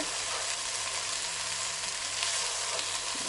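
Rice frying in a pan with a constant loud sizzle, stirred gently so the grains stay whole, close up with no voices.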